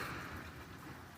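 Heavy rain coming down steadily around a burning fatwood fire, a constant close patter and hiss filling the whole moment.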